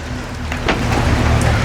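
Dense patter of rain falling on a surface, loud and close, a brief steady wash of drops.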